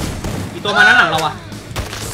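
Gunfire in the Free Fire video game comes as a few sharp, loud shots, with a voice briefly calling out between them.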